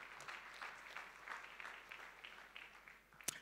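Faint, distant audience applause for children, a soft continuous patter of many hands with one sharp crack near the end.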